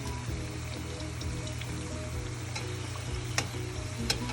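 Meat pies fry in hot oil with a dense, steady sizzle and fine crackling, broken by a couple of sharper pops near the end, close by with no talking.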